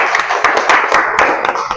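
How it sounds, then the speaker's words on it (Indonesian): A classroom group claps for the auditory group after its presentation, with loud, close hand claps in an uneven rhythm and several sharp individual slaps standing out from the steady patter. "kita kasih tepuk tangan"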